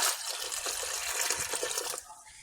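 Water pours steadily into a cooking pot of onions and tomatoes for a Pakistani aloo matar curry, a close splashing gush lasting about two seconds before it cuts off to quiet.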